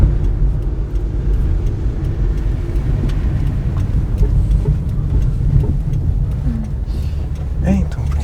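A 2002 Toyota Corolla drives along with a steady low engine and road rumble heard from inside the cabin, while people talk over it throughout.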